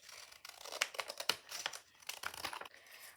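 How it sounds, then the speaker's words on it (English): Scissors cut open the plastic packaging of a Roblox blind bag in a series of faint, close, crinkly snips and tearing rustles, with no one talking. "We're going to take our scissors and then we're going to cut."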